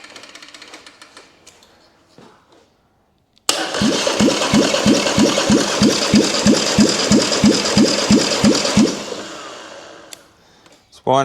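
Polaris Sportsman 850 ATV engine cranking over during a compression test, a loud, rhythmic chugging of about seventeen even strokes over the starter's whir for around five seconds, then stopping, with quiet shop sounds before and after.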